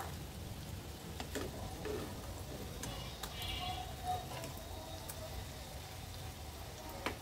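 Chira bora, fritters of flattened rice, fry steadily in a pan with a constant crackling sizzle like light rain and a few sharp pops scattered through it. No one speaks.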